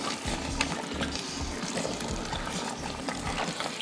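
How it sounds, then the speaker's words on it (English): A Durban curry base for bunny chow simmers in the pot, bubbling and gurgling in a close, continuous wet burble of small pops with no talk over it. "All these gurgling noises are so satisfying."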